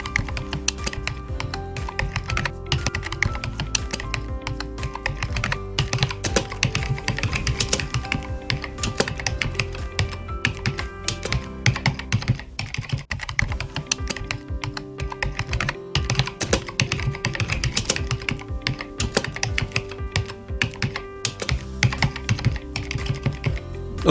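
Rapid, steady typing on a computer keyboard as JavaScript code is entered, dense close key clicks in a continuous stream with a brief pause midway, no talking.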